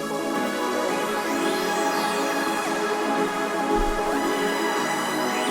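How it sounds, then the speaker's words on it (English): Sci-fi space starship sample passed through a phaser at a half wet mix, giving a dense, sustained tonal wash with slow sweeping notches drifting up and down, steady and loud from start to finish. "the first thing I did to it was I added a phaser"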